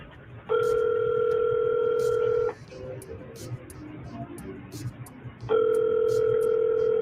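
A telephone rings over a speakerphone line, steady two-tone ring bursts sounding in two long stretches with a quieter gap between them while faint background chatter continues.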